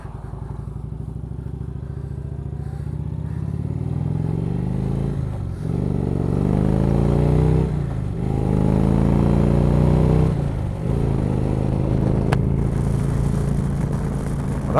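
Indian motorcycle fitted with a Stage 1 exhaust, ridden and revved: a loud, close engine drone that climbs through repeated rising accelerations, with brief dips between gear changes.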